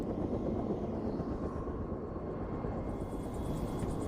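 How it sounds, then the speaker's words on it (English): Low, steady rotor and engine drone of a helicopter in flight over Hudson Bay polar bear country, constant and fairly distant, with no voices. "The helicopter drops Nick and I off a half mile from the bear"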